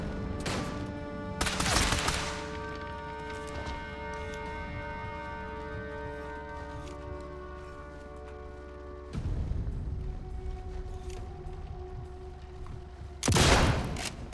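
Sniper Elite 5 sniper fire in an online match: two loud broadband gun reports near the start and end, plus a sharper crack around nine seconds, over a sustained droning game ambience with no talk.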